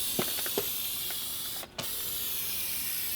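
Light tacking coats of spray paint going onto the chrome trim of a Chevrolet Silverado, a steady broad hiss throughout with a few faint clicks and one short pause in the spray.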